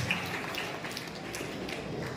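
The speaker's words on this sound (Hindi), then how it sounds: "इनके लिए भी जोरदार ताली" Crowd applause at a school felicitation event where an IAS officer's motivational speech honours students back from playing in China: steady, dense clapping that holds throughout, moderately loud, with no voices over it.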